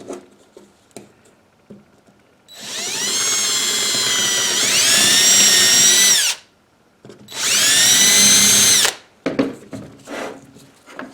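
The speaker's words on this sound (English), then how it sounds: "Now I'm going to get a little more daring. I'm going to use this. This is a step drill." A power drill fitted with a step drill bit whines loudly in two long bursts, pitch rising as it bites into rawhide, with quiet clicks and handling noises between.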